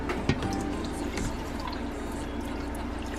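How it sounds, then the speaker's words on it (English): Two cups of water poured into a small pot of rice and pigeon peas on a stove at high heat, a steady close liquid splash and trickle with faint drips, no talk. "Then I'm gonna add 2 cups of water."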